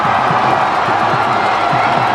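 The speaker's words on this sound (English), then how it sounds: "Listen to the crowd." A cricket crowd in a stadium at a Hong Kong Sixes final between Pakistan and Sri Lanka cheers and celebrates, a loud, steady roar of voices that carries through without a break.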